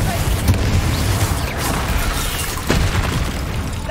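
Confringo fire spell explosions in the video game Hogwarts Legacy: dense, booming bursts with crackling debris, one strong blast near the start and another toward the end, continuous and loud.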